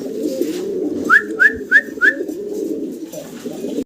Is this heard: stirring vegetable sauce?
no